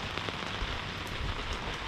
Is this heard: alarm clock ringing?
no